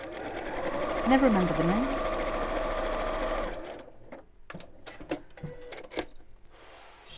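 A sewing machine stitches down the side of a sequin purse in a steady, whirring run of about three and a half seconds, then stops; someone talks throughout and keeps talking after the machine falls quiet.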